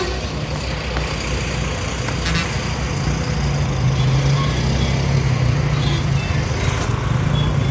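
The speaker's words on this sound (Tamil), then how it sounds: "ஸோ அப்படியே நம்ம வண்டி கிளம்புதுங்க." A luxury bus pulling away, its engine a steady low rumble building slightly as it moves off, heard from inside the cabin with a constant loud drone and no talking.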